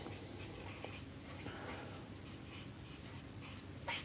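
A chisel tip marker colouring in dark grey tyres on a vehicle drawing, a faint continuous scratchy rubbing of the felt tip across paper, quiet and close.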